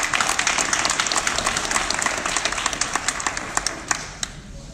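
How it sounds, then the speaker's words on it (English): Audience applause at a youth pitch night event, a loud burst of clapping that thins out into scattered individual claps toward the end. "So please give yourselves a huge round of applause."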